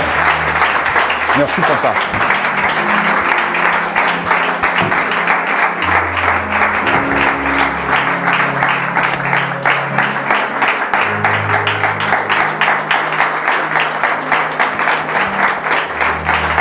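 Church congregation at a French-language prophetic deliverance service applauding steadily and loudly for a preacher being called up, sustained clapping with low murmurs, and someone briefly speaks over it near the start.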